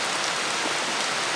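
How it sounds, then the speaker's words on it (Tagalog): Heavy rain pours down in a dense, constant hiss, loud and close, with no voices over it. "lakas ng ulan"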